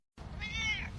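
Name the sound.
cat meowing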